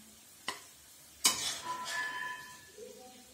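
Carrot halwa scooped out of a pan into a serving dish: sharp metal spoon knocks against the pan followed by scraping and a soft sizzling stir, close and clear with no talking.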